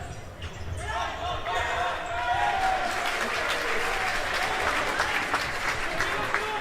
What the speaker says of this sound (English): every little tackle is being applauded and cheered